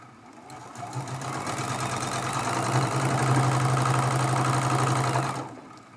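A sewing machine with a 12-inch throat space sews a Dresden Plate quilt block made from charm packs, running in one continuous, close, steady whir for about five seconds.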